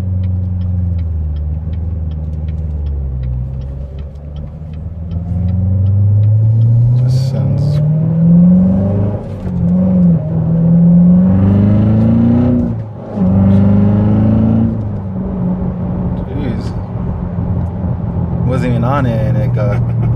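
Corvette Z06 C7 engine while driving, a loud steady rumbling drone that climbs in pitch as it accelerates, briefly dips and recovers, with the in-cabin hum sustained throughout.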